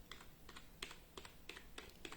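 An OMOTON wireless keyboard is typed on in a quiet room, with a steady run of soft, crisp key clicks spaced evenly and heard close and alone.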